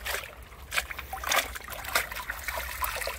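Very warm water runs over and through a computer being rinsed clean, a close, uneven trickle with louder splashing bursts and spatters as the flow hits the hardware, no one speaking.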